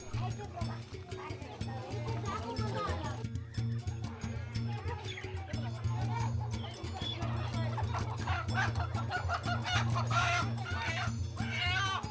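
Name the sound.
backyard chickens clucking and rooster crowing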